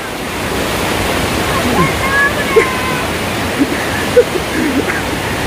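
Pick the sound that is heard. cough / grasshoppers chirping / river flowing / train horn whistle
river flowing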